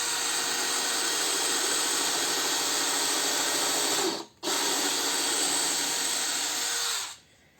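A Dewalt cordless drill with a countersink bit pre-drills wood in a loud, steady whine close by, cutting out briefly once, then running again before stopping. No one speaks.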